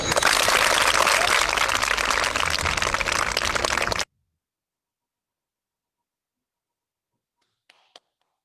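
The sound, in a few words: audience clapping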